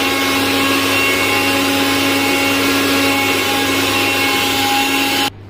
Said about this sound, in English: We have to grind onion.